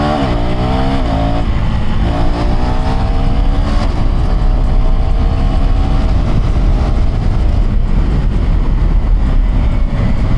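A KTM Duke 390 motorcycle accelerates hard after a U-turn, its single-cylinder engine climbing through rising revs and gear changes, loud and close throughout with strong rumble and wind.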